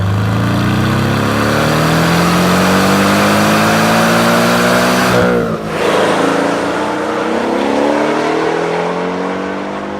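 A 2016 Porsche 718 Boxster with PDK gearbox and turbo engine revs hard past 7000 rpm, its loud note climbing steadily, then dropping briefly at a quick upshift before pulling strongly again.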